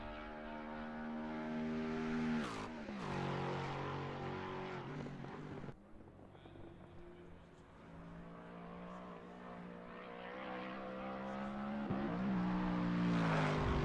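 A Lexus GT3 race car engine in a racing video game screams at high revs around Monza, its pitch climbing and dropping through gear changes, loud and continuous, with a brief dip midway before it winds up again.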